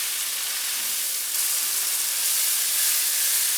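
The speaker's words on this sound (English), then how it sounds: "about 8 ounces of sliced mushroom. And we're just going to let this saute for a few minutes." Sliced mushrooms, about eight ounces, sauteing in a pan over medium heat, giving a steady, close hiss and sizzle that grows slightly louder partway through, with no talking.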